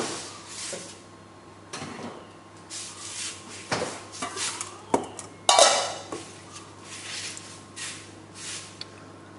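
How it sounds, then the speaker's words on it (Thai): Soft rubbing and clinking of pork pieces being tossed in a mixing bowl, with scattered scrapes and a sharper clatter near the middle, steady and close. "แล้วเราก็จะเอาหมูนะคะลงไปคลุก"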